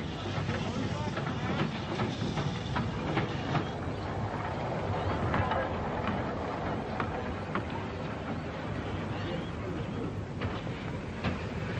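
Shunting trains on a 1950s LMS line, with a funeral train moved into a passing loop: a steady, loud rolling rumble of wagons and engine runs throughout with faint rhythmic clatter, and voices are also present.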